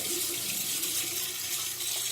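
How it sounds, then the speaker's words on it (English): Water runs steadily from a tap into a bathroom sink, a constant close hiss and splash with no voices. "the water coming out of that is nice and clean"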